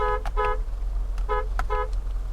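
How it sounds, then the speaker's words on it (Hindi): Two pairs of short car horn honks from a Mahindra Thar Roxx, loud and close, over a steady low engine rumble. "हॉर्न टेस्ट भी एक इंपॉर्टेंट चीज हो जाती है जब आप हाईवे पे चला रहे हो"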